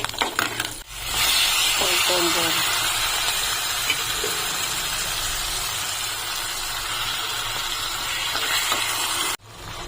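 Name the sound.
tempering sizzling with chillies, asafoetida and turmeric for gongura chutney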